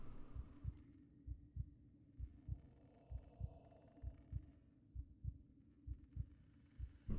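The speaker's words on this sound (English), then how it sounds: "I hear a heart beating." Low, muffled heartbeat sound effect during a tabletop role-playing session, about two steady double thumps per second repeating throughout over a faint hum, with no talk.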